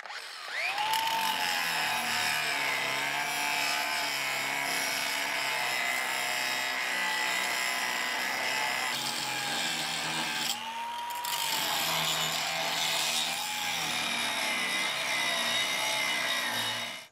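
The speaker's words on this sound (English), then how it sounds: "clamp this onto the bucket and grind this keyway off of here" Angle grinder cutting a keyway off a clamp-on trailer hitch for a Kubota B2601 compact tractor bucket, a loud continuous whine and grinding rasp with brief pitch dips as the wheel bites the steel, ending as it spins down.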